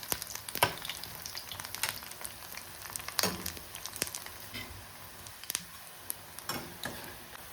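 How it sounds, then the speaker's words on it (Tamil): Idli batter bondas deep frying in hot oil give a steady, quiet sizzle and bubbling, broken by occasional sharp crackles and pops, close up with no talking. "அடுப்பை சின்னதாக வச்சு நல்லா வேக விட்டு மொறுன்னு இருக்கலாம்"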